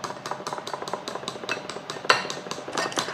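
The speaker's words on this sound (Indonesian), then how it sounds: "Dikocok semuanya nih biar bumbunya campur" A whisk clatters steadily against a bowl while spices are beaten into a beef burger marinade, a fast, even rhythm of close, bright metallic taps with no one talking.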